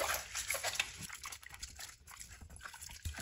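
Turnips are being washed by hand in a large pot of water, with close, irregular sloshing and splashing as they are rubbed and turned, no voice over it.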